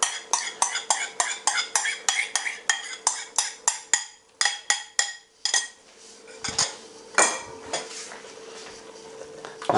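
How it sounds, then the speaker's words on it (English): Metal utensil repeatedly scraping and clinking against a pan as coconut cream is stirred into a South Indian style fish curry, a quick rhythmic series of taps that slows, then softer stirring with a faint sizzle. "And we'll just give that a stir in."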